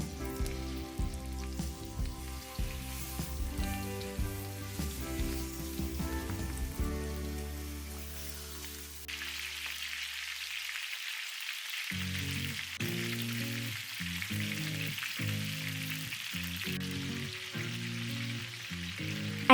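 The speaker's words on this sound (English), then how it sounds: "I lay out the chicken legs in the frying pan for frying until lightly golden." Chicken legs sizzle in a frying pan with a soft, steady crackle that continues throughout, beneath background music.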